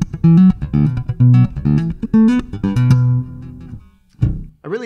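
A Cort Artisan A5 Beyond electric bass in active mode with the pickup blend leaned toward the neck pickup plays a punchy, thick riff of quick plucked notes, ending on a sustained low note after a brief pause.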